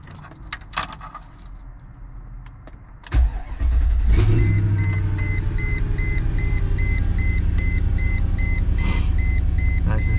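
A Mercedes ML55 AMG engine cranks and catches around the three-second mark after ECU tuning, then settles into a steady, loud idle with a faint high whine over the rumble.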